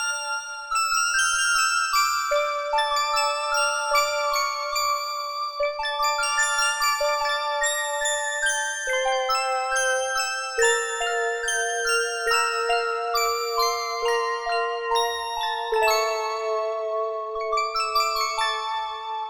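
A bright bell-like synth preset called baby bells on the Synapse Audio Legend HZ plays a slow melodic run of chiming, tinkling notes with sustained overlapping tones, clean and alone for about nineteen seconds.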